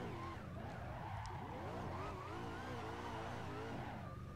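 A Chevrolet Corvette HGK drifting at Long Beach in Assetto Corsa, with a steady tire skid squealing over the engine's warbling drone for the whole stretch, near and constant.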